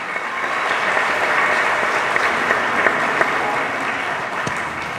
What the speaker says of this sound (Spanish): Un aplauso para nuestros niños.